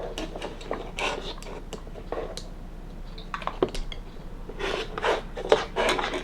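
Quilt fabric seams on a split star block are trimmed down, giving soft scraping and rasping cutting strokes in quick irregular bursts, close and fairly quiet.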